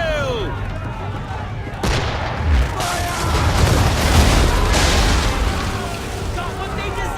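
Naval cannon and swivel guns fire during a ship battle in Assassin's Creed III, a string of deep booms and bursts rolling under crew shouting and continuous sea and wind noise.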